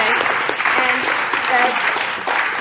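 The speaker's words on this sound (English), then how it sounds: "we can give them a much-deserved tribute and applause for this." A standing audience at an innovation awards ceremony applauds, a dense, loud burst of clapping lasting a couple of seconds, with a voice briefly audible underneath.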